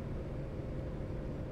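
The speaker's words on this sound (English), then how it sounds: "especially when you do engine brake." Kenworth truck engine brake in a roleplay driving video game: a steady, loud, low rumbling drone that holds evenly for the whole moment, with no voices.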